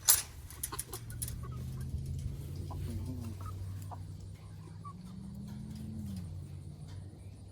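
Free-range chickens and a rooster cluck steadily at close range, with low, drawn-out calls rising and falling throughout and no voices present.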